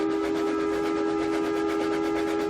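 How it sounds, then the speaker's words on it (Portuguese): A steam train whistle blows one sustained, loud, tonal blast with a steady pitch, heard over faint rumbling of the rail cars and with no voices. "E o apito de um terceiro trem iluminado soou"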